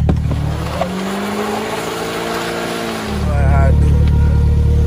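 A Polaris Slingshot spins, its engine revving loud and close with a rising, strained roar and tire noise that swells toward the end, while people talk over it.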